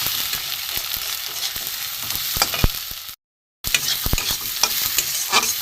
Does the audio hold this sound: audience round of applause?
no